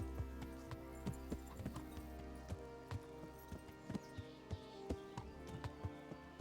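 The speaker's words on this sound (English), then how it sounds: "Tá um fofo cavalo andando" A horse walks in Kingdom Come: Deliverance, its hooves clip-clopping in a steady, even rhythm against a low ambient background, with no one talking.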